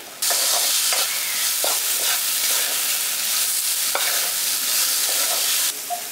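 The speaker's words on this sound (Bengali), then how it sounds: "আর দিয়ে দিচ্ছি কাশ্মীরি লঙ্কার গুঁড়ো 1 চামচ দিয়ে দিচ্ছি, ভালো করে মিশিয়ে দিচ্ছি।" Chicken cutlet mixture with Kashmiri chili powder stirred in a pan: a dense, loud, continuous hiss with faint scrapes and occasional knocks of the spoon, starting abruptly and cutting off near the end, without speech.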